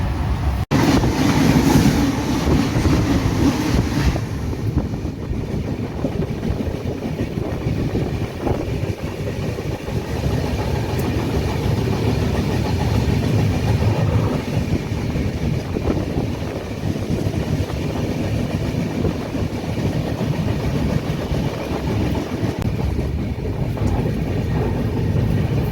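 The Azad Hind Express rolls through a curve, its wheels clattering in a steady rhythm under a continuous loud rumble with wind noise, heard from inside the train.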